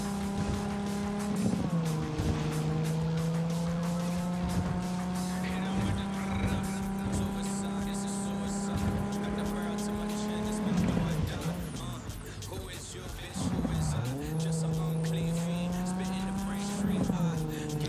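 A car in Cyberpunk 2077 drives with a loud, steady engine drone, its pitch dipping and climbing as it shifts, broken by several screeching tire squeals, and a person talks over it.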